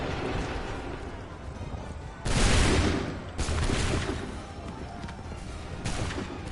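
Musket volleys crack out in the Assassin's Creed 3 video game, two loud bursts of massed gunfire about a second apart with a fainter report later, over a steady battlefield background.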